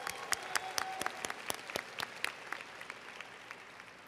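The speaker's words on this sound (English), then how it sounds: "Let's give them a round of applause." A crowd at a 2025 high school graduation ceremony gives steady applause, with distinct individual claps over a soft wash that stays fairly distant and quiet, gradually thinning toward the end.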